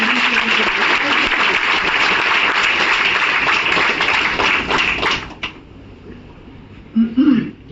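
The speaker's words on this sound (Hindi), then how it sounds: "एक जोरदार ताली बजाइए हमारे।" An audience at a health meeting gives loud, dense applause for about five seconds, then it stops abruptly, followed by a short voice near the end.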